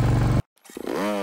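A motorcycle on a rough, difficult road runs loudly, cuts out for a split second, then its engine note climbs again in a short rising rev, close and alone.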